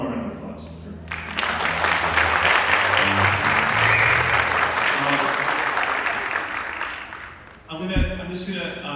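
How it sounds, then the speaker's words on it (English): Audience at a high school and middle school jazz concert breaks into loud, sustained clapping lasting several seconds before fading, with a voice speaking over a microphone before and after. "How about one more round of applause?"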